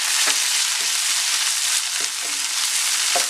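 Onion and tomato sizzle steadily in a pan for pork curry, a continuous bright frying hiss broken by a few soft spatula scrapes and stirs, close and without talk.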